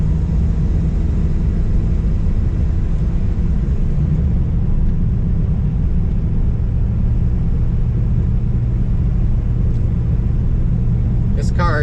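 Low, steady engine rumble from a 1968 Dodge Super Bee pulling in first gear through its TorqueFlight automatic, a continuous drone throughout with a brief higher-pitched noise near the very end.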